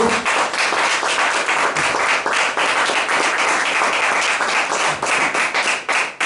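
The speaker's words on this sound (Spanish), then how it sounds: "Démosle una fuerte ofrenda de palmas a nuestro Dios." A church congregation gives God a loud, dense round of clapping that holds steady throughout, close and full, with a faint voice underneath.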